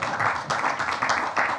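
Someone at a Daf Yomi Talmud class claps, a short series of sharp hand claps at a quick uneven rhythm, moderately loud and close.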